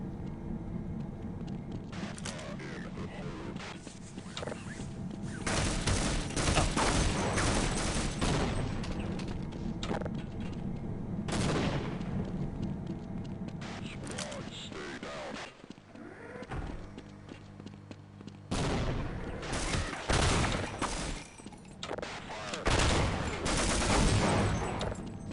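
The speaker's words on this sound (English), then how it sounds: "the default Half-Life shotgun sound" Shotgun blasts from the Half-Life game with an HD sound pack, a harsh, loud burst of gunfire repeated in dense clusters across the span with brief quieter gaps, under other in-game noises.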